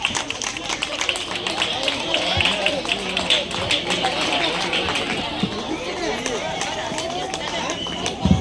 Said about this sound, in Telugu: క్లాప్స్ కొడదాం అందరూ.